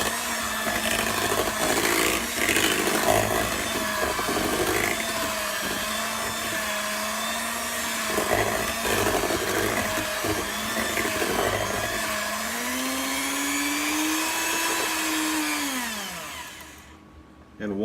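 An electric mixer whirs steadily through cheesecake batter with lemon juice just added, a continuous loud motor drone that shifts pitch partway through, then winds down and stops.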